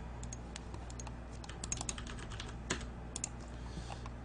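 Rapid, irregular clicking of computer keyboard keys during a StarCraft game, with a few louder strikes standing out above a steady low background hum; no voices.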